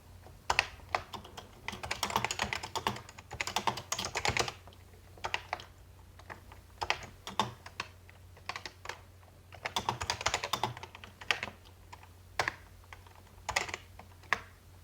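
Steady, fast typing on an Electron computer keyboard, with clustered bursts of key clacks and brief pauses, close up and loud with no talking.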